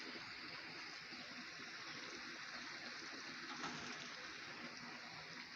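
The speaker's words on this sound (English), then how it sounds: "I'm watering it." Water pours steadily onto the soil around a newly planted tree outdoors, a continuous, fairly soft gushing stream with no talking.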